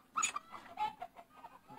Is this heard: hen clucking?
yes